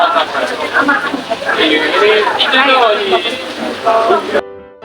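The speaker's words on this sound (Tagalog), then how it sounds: "Dito kami sumilong kasi ang lakas ng ulan." Rain falls hard around a shelter at Merlion Park, Singapore, a constant wash of patter beneath people chatting nearby, ending abruptly.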